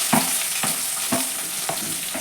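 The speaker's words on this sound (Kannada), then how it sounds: "ಒಂದು ದೊಡ್ಡ ಈರುಳ್ಳಿ ಚಿಕ್ಕದಾಗಿ, ಅದನ್ನು ಹಾಕ್ತಾಯಿದ್ದೀನಿ ನಾನು" Chopped onion and green chillies fry in a hot pan with oil, giving a soft, steady sizzle broken by a few scraping stirs of a spoon, close up and with no talking.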